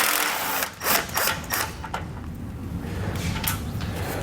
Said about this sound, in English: you can use your impact to remove them all the way